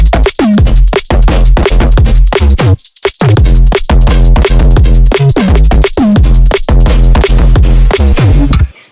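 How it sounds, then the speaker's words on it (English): Minimalistic drum and bass track with multiband saturated bass plays loud and continuous, with punchy kicks and snares over heavy distorted low bass and one brief dropout near the three-second mark. "This one is really minimalistic drum and bass"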